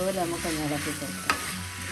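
A spoon scrapes and stirs cooked elephant yam mash in a pan, with soft wet squelches over a low hiss and two brief sharper scrapes near the end.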